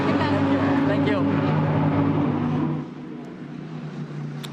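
The number 163 Lamborghini GT race car runs at the Barcelona circuit during pre-qualifying for the 2021 GT World Challenge Europe, its engine roar loud and close before fading into a distant drone after about three seconds.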